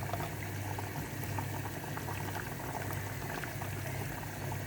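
Sour fish curry with raw mango bubbles at a steady simmer in the pot, a continuous close-up burbling with small pops and no voices.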